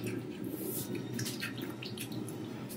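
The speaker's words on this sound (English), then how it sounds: "So let's go ahead and add some water." Water trickles and drips from a tap while being added to a Beekman 1802 skincare cleanser, soft running splashes close by, with no talking.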